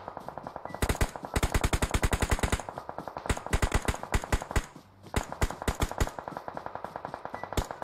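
Sustained automatic gunfire in the mobile battle-royale game PUBG Mobile, fought in a bootcamp area: rapid, loud rattling bursts with short pauses between volleys, mostly alone with no talk.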